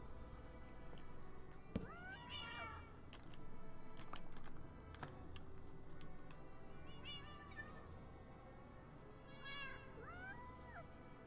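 Radioactive ray cats in a Minecraft modpack meow repeatedly in drawn-out, wavering calls spaced across the stretch, over a low hum with scattered keyboard clicks.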